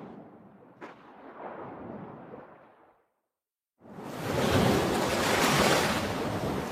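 Ocean waves breaking on a beach: a rushing wash that fades to silence, then a louder, fuller surge of surf crashing in and roaring on, heard close with no voices.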